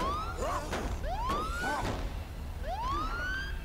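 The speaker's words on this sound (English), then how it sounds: "this siren works pretty good." A vehicle siren in the video game State of Decay wails in repeated rising sweeps, loud and close, with a few dull thumps between the cycles and no talking.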